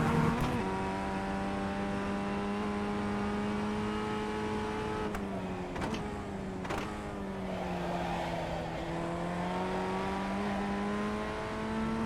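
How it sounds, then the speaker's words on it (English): Race car engine at sustained high revs, its note rising and dipping through corners, with the tyres sliding and scrubbing; a steady, close, loud drone with no talk over it. "Yeah, lots of sliding tyres."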